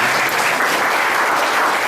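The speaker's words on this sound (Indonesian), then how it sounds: "Tepuk tangan dong buat saya." Audience members at a church sermon break into loud, continuous applause, a thick sustained clatter of many hands that holds evenly throughout with no speech on top.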